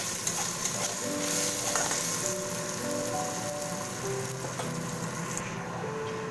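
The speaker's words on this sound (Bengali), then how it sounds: "ভালো করে কিন্তু চালটাকে ভেজে নিতে হবে" Raw rice frying in a pan for a vegetarian rice-and-pointed-gourd dish, with a steady close sizzle and repeated stirring and scraping throughout, no voices.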